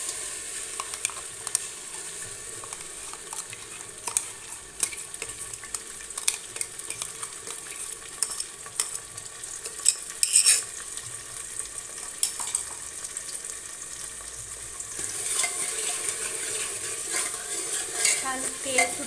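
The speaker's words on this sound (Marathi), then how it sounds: "छान तेल फुटेपर्यंत आपण ते आता भाजून घेऊयात." Ground masala paste frying in 4 to 5 large spoons of oil in a pressure cooker over high flame, a steady close sizzle with frequent scraping stirs of a spoon against the metal, growing louder toward the end.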